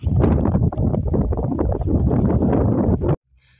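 Hurricane-force wind carrying snow roars across an outdoor farmyard where fences and posts were blown down. Heavy, gusting buffeting hits the microphone continuously, then cuts off abruptly near the end.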